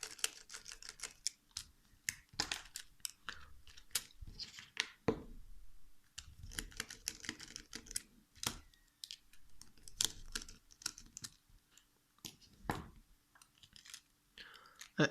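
A tiny screwdriver backs out small screws while a Samsung C3750 phone is taken apart, giving scattered faint clicks, ticks and light scrapes at close range, with brief quiet talking in between.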